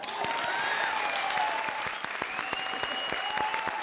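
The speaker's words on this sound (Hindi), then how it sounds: "तालियां।" A studio audience on a Hindi television comedy show breaks into loud, sustained applause. The steady clatter of many hands runs throughout, with faint tonal sounds drifting underneath.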